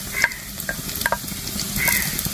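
Grated ginger and six garlic cloves sliced lengthwise frying in hot coconut oil. A continuous close sizzle runs throughout, with light clicks and scrapes of stirring and no voices.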